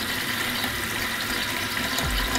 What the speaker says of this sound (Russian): отправляем в кастрюлю и набираем холодную воду